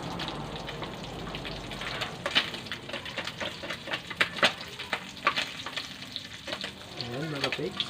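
Food sizzles and crackles steadily in a hot frying pan during home cooking of a simple budget meal, with sharp pops and clicks scattered over a continuous hiss and a brief stirring scrape near the end.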